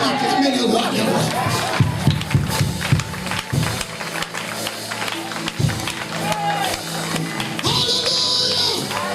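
Church congregation at a French-language service cheering and acclaiming, a loud sustained crowd roar with scattered claps and shouts over continuous voices, swelling and dipping throughout.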